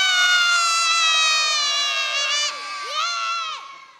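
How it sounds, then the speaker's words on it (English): A crowd of children in a church shouts a loud, sustained cheer together, high voices blending into one long yell that breaks into a few rising and falling whoops before fading out. "Kids, I want you to give your biggest cheer for Jesus winning the victory over death."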